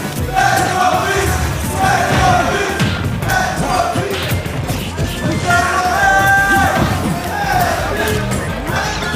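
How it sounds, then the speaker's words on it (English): A French crowd at a Super Smash Bros. Ultimate esports tournament roars loudly and continuously, with shouts and thuds in the din and a commentator talking over the noise. "And the French crowd are come alive."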